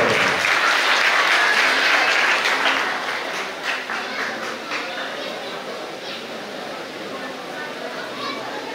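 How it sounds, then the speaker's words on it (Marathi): Loud applause at a family retirement celebration, heavy clapping for a few seconds that thins to lighter, scattered clapping with chatter beneath. "जोरदार टाळ्या वाजवलेला टाळ्या कमी पडतात"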